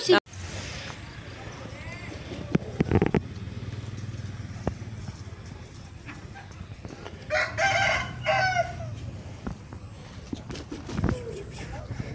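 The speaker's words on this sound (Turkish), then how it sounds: "Sakallı horoz." A bearded Bangkok × Brazil Indian cross rooster crows once loudly midway, with a few clucks and scattered thumps around it and people talking in the background.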